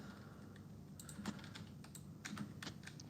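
Quiet, sharp clicks from a computer mouse clicked in quick bursts while playing a space-building game, with a handful of scattered taps over a steady low hum.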